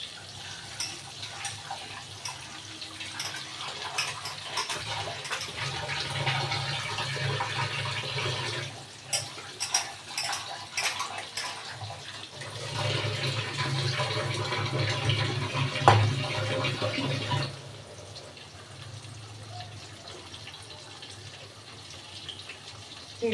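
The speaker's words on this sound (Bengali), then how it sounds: "এবার আলুগুলোকে একটু ধুয়ে নেব" Potatoes are rinsed under running water, with a steady gush and splashing that surges, briefly pauses, and comes back before the flow eases off.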